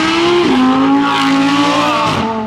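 A loud, high-revving Audi R8 V10 engine at a hill climb, its pitch sweeping up through the gears with a shift break in between, close and continuous with no voices.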